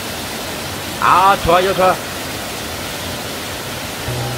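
Heavy water flow from a waterfall in the Jangheung valley, a steady broadband rush throughout, with a short stretch of people talking over it midway.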